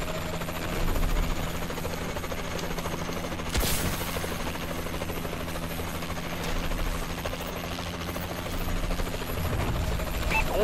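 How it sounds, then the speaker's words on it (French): An allied Warbird aircraft flies overhead during a Call of Duty: Advanced Warfare Exo-Survival match, a steady, loud engine drone that holds throughout with a brief burst of noise partway through. "Warbird d'alliés dans les airs."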